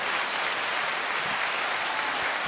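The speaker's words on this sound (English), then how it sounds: "Clap for the Eagles. Clap for them." Steady, dense clapping from a crowd, continuous and fairly loud throughout, with no voices standing out.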